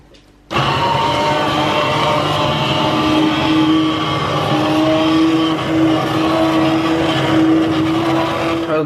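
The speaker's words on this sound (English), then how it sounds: "I shall now blend this here mixture until it is smooth" A blender whirs steadily as it purees cooked tomato soup until smooth, starting abruptly and running loud and continuous for several seconds with a slight shift in pitch partway through.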